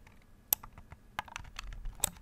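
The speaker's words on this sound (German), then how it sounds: "als erstes hört man den Klick von der normalen linken Maustaste und wenn ich dann fester drücke, knarzt es so" Left button of a gaming mouse, a Zowie EC2-A or Logitech G502, pressed several times: quiet, close, sharp clicks at irregular intervals, with softer creaking ticks between them from the button's faulty extra click.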